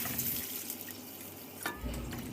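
Water is poured into a pan holding soy sauce and sugar, for a Filipino lechon kawali pares dish. It gives a faint, brief trickling splash in a quiet room, with a small burst near the end.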